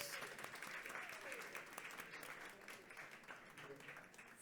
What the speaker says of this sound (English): Give them a round of applause to get on stage.